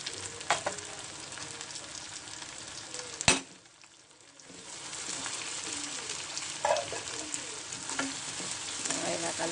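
Chicken frying in a pan with green chillies and curry leaves, a steady close sizzle and crackle with a few stirring clatters and one sharp knock, briefly dipping quieter before the sizzle builds again.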